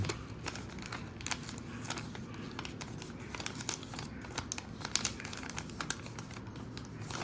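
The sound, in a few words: folding paper into an origami envelope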